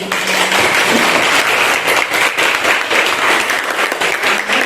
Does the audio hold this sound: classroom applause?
yes